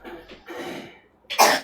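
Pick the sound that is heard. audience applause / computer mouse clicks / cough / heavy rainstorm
cough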